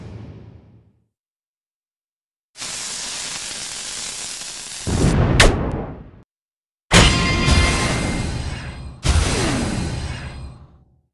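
Explosion effects from the Little Blue Bomb Magisword in the video game Mighty Magiswords: several loud, hissing, noisy bursts of a few seconds each, separated by short silences, one ending in a sharp crackling pop.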